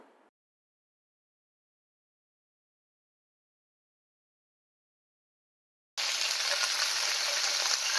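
Vegetables frying in a small amount of oil for a vegetarian Bengali dish: after long silence, a steady, loud broadband sizzle starts abruptly and continues close up, with no talking.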